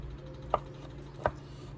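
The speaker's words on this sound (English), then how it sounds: "garlic that I had in the refrigerator, and I'm just going to cut some of it up" Knife cutting garlic cloves from the refrigerator on a board, two sharp, isolated chops about three-quarters of a second apart, close and fairly quiet over low background hum.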